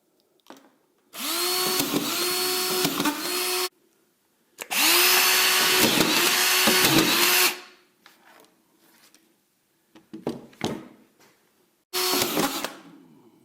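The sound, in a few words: Senco cordless drywall screwdriver driving screws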